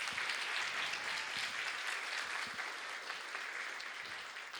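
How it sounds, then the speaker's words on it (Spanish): A church congregation gives sustained applause during a sermon, an even, dense wash of clapping from many hands that holds steady for the whole clip with little else heard. "Denle un aplauso al Señor por eso."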